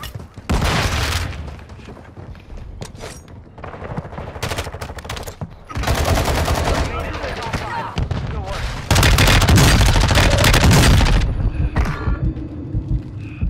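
Sakin MG38 light machine gun firing in Call of Duty on Ashika Island: loud bursts of rapid automatic gunfire in several long volleys, separated by brief quieter gaps, with voices in the background.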